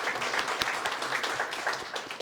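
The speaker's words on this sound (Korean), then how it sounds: "장시간 좋은 강연과 또 답변해 주신 우리 박지원 교수님께 큰 박수 부탁드리겠습니다" An audience at a business forum gives a professor dense, steady applause after his lecture and question session, many hands clapping together at a moderate distance throughout.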